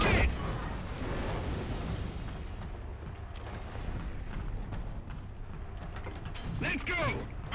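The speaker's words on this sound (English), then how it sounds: "The gun's been loaded." Metallic clanks and ratcheting clatter come from the loading mechanism of a PzKpfw III Ausf. E tank gun in War Thunder, set against a dense rumbling background with a few sharp mechanical strikes near the end.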